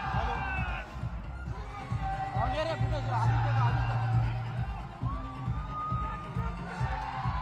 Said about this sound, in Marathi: मातोश्रीच्या बाहेर एकच जल्लोष सुरू असल्याचं आपल्याला पाहायला मिळत आहे